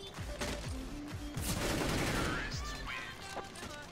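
Rapid bursts of gunfire in an Unreal Tournament match crackle in a dense, loud volley, overlapping shots and impacts filling the moment with a chaotic rattle.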